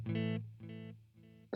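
Guitar played through the analog delay effect of a Lekato TANK-G guitar modeler, reverb switched off: a short sustained chord repeats in softer echoes that fade with each copy, with a fresh attack at the very end.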